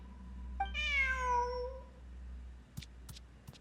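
A single rising-and-falling meow from a cat in the Genshin Impact video game, close and clear, followed by a few soft clicks.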